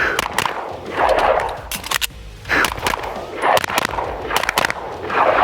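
Rapid pistol fire from a Walther PDP on a shooting range: several quick pairs of sharp, loud shots in fast splits, separated by brief pauses, with no talking.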